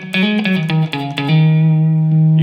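Electric guitar played through an amp with its built-in distortion effect switched on, a few quick picked notes then a loud sustained distorted tone ringing out and holding.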